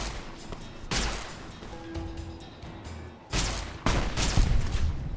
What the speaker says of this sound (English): Anti-material rifle, that's why I'm taking so much damage.